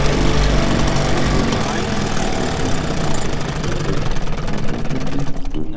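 A two-stroke outboard motor on a boat runs loud and close with a rough, throbbing drone that thins out toward the end as it begins to die.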